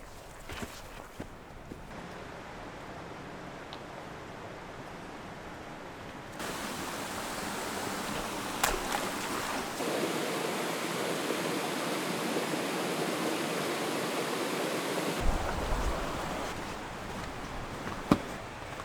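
A mountain creek rushes through a river gorge as a steady, broadband roar that swells louder partway through, with a few faint knocks over the flow.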